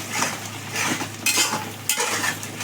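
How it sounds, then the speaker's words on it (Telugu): Tomato puree being stirred in a cooking pan, continuous scraping and swishing with a few sharper clinks of the spoon, moderately loud and close, over a low simmering sizzle. "టమాటా ప్యూరీ వేసాం కదా, ఒకసారి కలుపుకుందాం."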